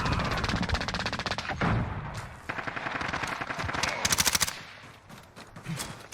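Rapid automatic gunfire in the shooter game Modern Warfare, dense bursts of sharp repeated shots in quick succession with brief gaps, loud and close, with a voice briefly heard underneath.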